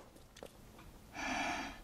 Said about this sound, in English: So listen to the tone of your inhaled breath,